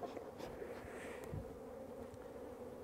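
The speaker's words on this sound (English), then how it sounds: "So the bees quite often get annoyed with the process, even if you are using smoke." Honey bees buzzing steadily during a hive inspection for American foulbrood, an agitated colony droning continuously throughout at moderate level with no talking.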